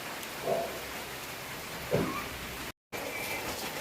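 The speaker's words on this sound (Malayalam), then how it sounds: "നല്ല മഴയാണ്." Heavy rain falls in a steady, faint, even hiss with a couple of soft thuds and a brief dropout, and no voices are heard.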